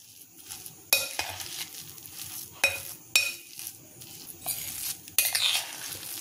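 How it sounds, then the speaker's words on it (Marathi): A chickpea cutlet mixture with green chilli paste is stirred in a bowl: soft mushy squelching under a quiet background, punctuated by several sharp metal spoon clinks against the bowl rim. "आता आपल्याला हे सगळं नीट व्यवस्थित मिक्स करून घ्यायचंय।"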